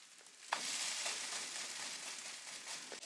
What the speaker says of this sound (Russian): чем тоньше у вас драник, тем лучше он прожарится